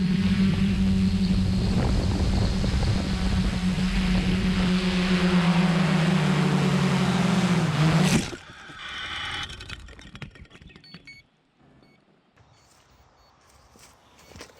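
A quadcopter drone flies over a fallen tree on an old battery, its loud, steady rotor whine and wind rush filling the first eight seconds before cutting off abruptly, leaving only faint rustling and scattered low knocks.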